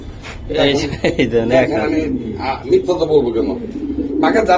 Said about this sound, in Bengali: দর্শক দেখেন কবুতরগুলো দেখেন